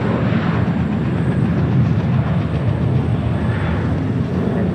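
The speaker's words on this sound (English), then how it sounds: "we have that 777 about to touch down on 25 left" Boeing 777 airliner touching down on runway 25 left at Los Angeles International Airport, a loud, steady broadband jet roar with rumbling low end, sustained throughout with no talk.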